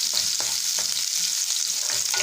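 Shallots and dried red chillies sauté in hot oil over low heat, a steady close sizzle with faint scraping stirs throughout.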